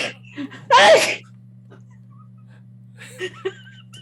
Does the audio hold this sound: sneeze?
yes